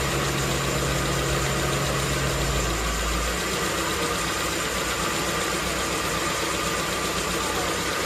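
Car engine with a carburetor idling steadily while the idle screw is adjusted, a continuous close rumble whose low hum drops after about three seconds; a voice speaks over it.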